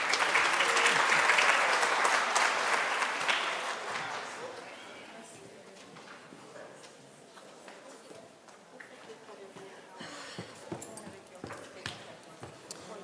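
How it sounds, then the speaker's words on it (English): Audience applause at a midwifery, obstetric, neonatal and child health conference swells loudly for about four seconds, then thins to scattered claps, with voices talking underneath. "Let's give another round of applause for Dr."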